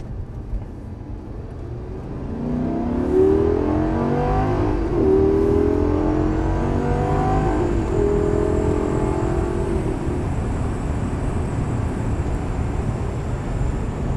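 A Lamborghini Gallardo accelerating on a racetrack, its engine note climbing in a loud, steady drone that rises through the gears, heard close from the car with no talking.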